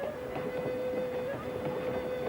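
Train of boxcars rolling on rails, a steady low rumble with a faint sustained tonal whine and scattered rattling, continuous and moderately distant.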